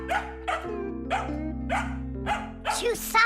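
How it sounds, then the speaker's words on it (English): A cartoon dog barks repeatedly in short, loud yaps, about six in a row at a steady pace, with a musical backing underneath. "Come on, she's just a dog."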